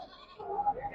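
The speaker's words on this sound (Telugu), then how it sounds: "ఇక్కడ వచ్చేసి పెద్ద మేకపోతులు ఒక 4 ఉన్నాయి." A short, fairly faint bleat from a male goat at the Mylavaram livestock market on a rainy day, heard as a brief call against quiet background noise.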